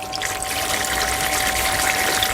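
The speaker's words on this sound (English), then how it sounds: "If you push the switch on, you'll now hear the pump because there's a secondary pump from there." A VW California T6.1 camper's secondary water pump runs with a steady whine while the shower sprays, a continuous close rush of water over a constant tonal hum.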